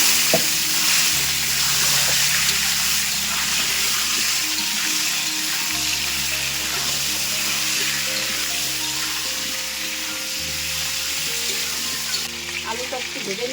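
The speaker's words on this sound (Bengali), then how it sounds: "আলুটা একটু ভেজে নিয়েছি আমি" Cut potatoes fry in a pan with bay leaves and dried red chillies for a Bengali fish curry, making a steady close sizzle throughout, with faint stirring clinks toward the end.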